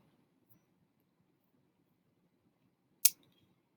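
A single crisp computer mouse click, sharp and close, sounding once after a stretch of near silence.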